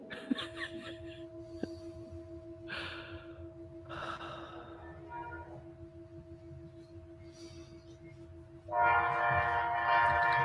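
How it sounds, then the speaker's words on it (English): A train sound effect, likely a horn or whistle, sustains as a steady tone through most of the stretch, with scattered breathy bursts, then a loud hissing rush swells near the end. "That was the train."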